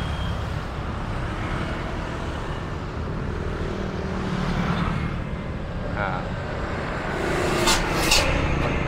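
Morning traffic flows around the Cibiru roundabout in Bandung: a dense, steady rumble of passing cars and heavier vehicles, swelling near the end, where a few sharp high tones cut through.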